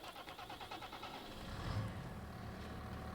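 A tractor engine in the Farming Simulator 25 game turns over and settles into a low, steady rumble that swells after a moment and holds at a moderate level.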